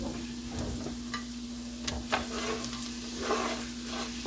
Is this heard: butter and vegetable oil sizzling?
yes